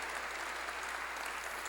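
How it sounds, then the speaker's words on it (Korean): A church congregation claps during a sermon, a dense, steady wash of applause that stays even throughout. "빨리 박수로 하나님께 영광 돌려서"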